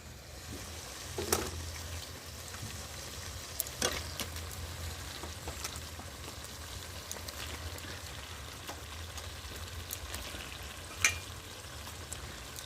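Chicken pieces hit hot spice masala for chicken kosha, raising a steady low frying sizzle with occasional stirring scrapes and sharper pops, moderately near with no talk.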